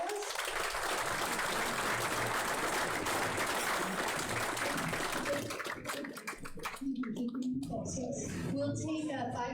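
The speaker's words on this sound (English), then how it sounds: "can we give these guys a round of applause?" Audience applause at a 2022 candidate forum, a dense wash of clapping that fills most of the clip before tapering, with speech overlapping toward the end.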